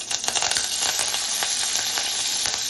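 Hot oil sizzles and crackles steadily as curry leaves and spices fry, with bright spitting pops scattered through the hiss.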